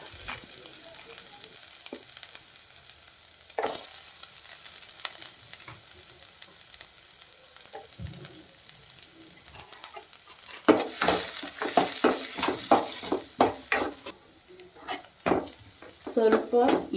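Onions frying in oil and butter with mustard seeds and cumin, starting as a faint hiss with occasional utensil clinks and pan knocks, then building into a louder, crackling sizzle with stirring toward the end.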